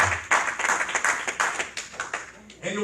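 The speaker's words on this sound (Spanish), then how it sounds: "Aplauda al Dios de la gloria." Church congregation clapping in praise, a series of distinct close hand claps in a loose rhythm with voices mixed in, ending as a voice begins.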